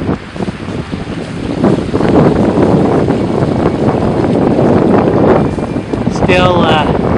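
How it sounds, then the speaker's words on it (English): Steady wind gusts roar across a microphone outdoors in a snowy pine forest in Frontenac Provincial Park. The broadband rush stays loud and continuous for the whole span. "I think you get a little feeling about the wind today."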